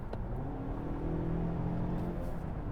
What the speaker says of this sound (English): I'm gonna press the accelerator down the hill here.